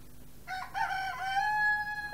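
A rooster crows in a Finnish radio play of a folk tale: one close, loud, drawn-out cock-a-doodle-doo rising and holding over a faint background hum, with no voices over it.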